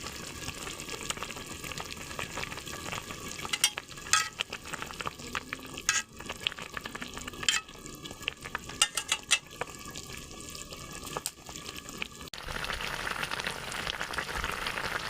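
Eggplant curry with sour bori fries in a pan while being stirred, a constant close sizzle broken by repeated scraping and clattering of a spatula against the pan.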